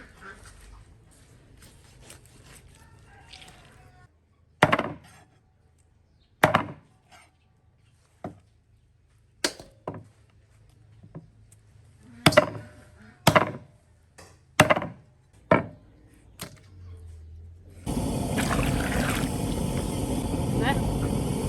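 A sharpened cleaver chops through a cured, smoked pig trotter in sharp, heavy strikes, about a dozen irregular blows close by, followed by a loud steady rush of running water.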